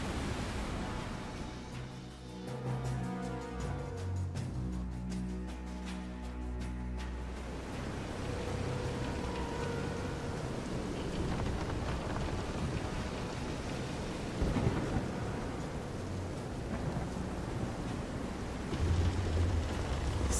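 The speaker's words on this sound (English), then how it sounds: "This is some storm." Heavy rain roars steadily through a thunderstorm at sea in Visions of Mana, with deep rumbles of thunder and surging waves under a pitching boat, plus a few heavier thuds near the end. No one speaks.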